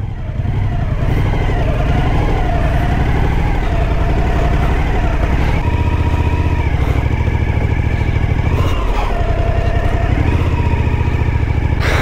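A motorcycle rides a rough dirt road in Africa, its engine droning loud and close throughout with rising and falling revs, rumbling steadily under the ride.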